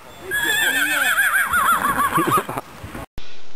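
A mare at an outdoor horse blessing in front of a village church gives a loud, close whinny that quavers and falls over about two seconds, followed by a brief cut.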